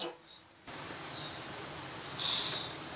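Urad dal dry-roasting in a pan gives off bursts of dry, hissy rustling as the grains are stirred, swelling loud then easing, with quieter stretches between the bursts.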